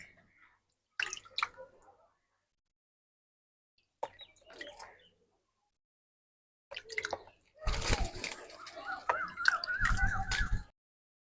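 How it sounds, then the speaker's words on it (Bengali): Water poured by hand over a small bird bathing, heard as a few short splashing and dripping bursts separated by silence, closing with a longer, louder stretch of sloshing water nearby. "গায়ে জলটা দিয়ে দিলে আরামে স্নান করছে"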